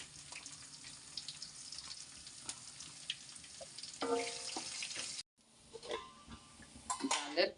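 Garlic and onion hitting hot oil in a pan where chili is already frying, for a radish dal. A steady close sizzle swells louder partway through, breaks off briefly, then resumes with light clatter.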